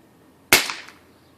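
A Crosman Pumpmaster Classic air pistol fires a single sharp, loud crack that decays quickly into a short tail, alone against a quiet background.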